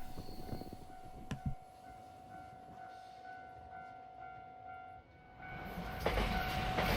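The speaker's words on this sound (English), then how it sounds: "the helper locomotives are detached from the train at Saijo, and then they run back down the gradient to Hiroshima" A helper locomotive runs light down the gradient from Saijo toward Hiroshima, passing near a level crossing. Its engine rumbles steadily, with a short burst of clatter early on and the noise swelling again toward the end.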